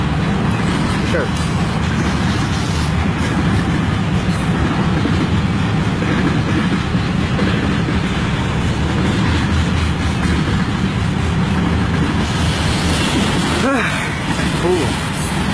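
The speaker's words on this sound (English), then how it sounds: "A long train." A long CN eastbound freight train hauled by four locomotives rolls past steadily in Kimball Township, Michigan, with a continuous loud rumble and clatter of wagons throughout and a brief horn-like tone near the end, with people talking over it.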